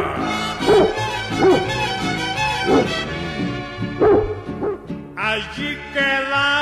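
Dog barks ring out in a Mexican ranchera song about a black dog, several yipping barks repeating at an even pace over sung vocals and band accompaniment.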